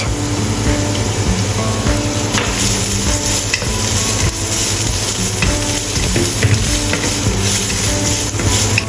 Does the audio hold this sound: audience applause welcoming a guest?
no